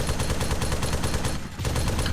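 Rapid gunfire in the video game Arma 3, a fast rhythmic burst of shots repeating steadily with a brief gap before resuming, loud and alone.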